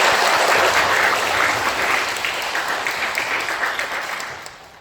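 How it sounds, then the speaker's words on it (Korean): Church congregation applauding after a special hymn, a loud, dense round of clapping from many people that slowly fades toward the end. "다시 한번 박수 할까요?"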